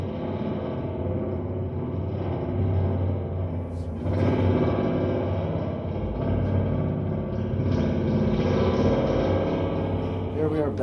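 A guitar amplifier's spring reverb, heard during a repair, with a noisy, accentuated wash and hum: sustained reverberant tones with a constant noise bed throughout and a brief dip near the middle, with some talking mixed in.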